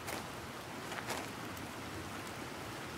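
Steady rainfall in The Planet Crafter video game, a soft, even hiss of falling drops with no talk, holding at a constant low level throughout.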